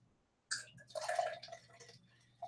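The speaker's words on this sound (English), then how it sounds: "as I pour my beer" Beer poured into a glass, a close, sudden gush of liquid that splashes and fizzes for about a second and a half before trailing off into quieter dribbles, with no voices.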